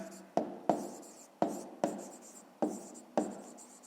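A pen writes on paper while a pupil notes the solution to a fifth-grade maths exercise, making a quiet scratching with seven sharp strokes at an irregular rhythm, close to the microphone and with no talk.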